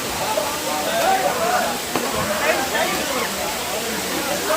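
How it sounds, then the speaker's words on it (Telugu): A small waterfall gives off a steady, close, broadband rushing hiss as a voice talks over it. "నాకు ఈ చిన్న వాటర్ ఫాల్స్ కూడా ఎంత బాగా నచ్చిందో చూడండి"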